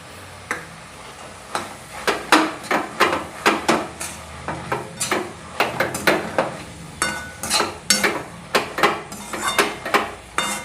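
Fenugreek bhaji with peanuts being mixed in a pan: a steady run of sharp spoon-against-metal clacks and scrapes, repeating every half second or so, close and fairly loud, with a faint sizzle underneath.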